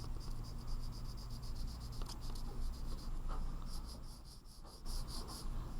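A crayon scrapes across paper in quick, steady back-and-forth strokes, a soft scratchy rasp repeating throughout at close range with no talking.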